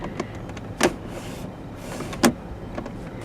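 Accordion-style compartment door in a 2015 Dodge Grand Caravan sliding open and shut, with two sharp close plastic clacks over a low cabin rumble and faint rustling between them.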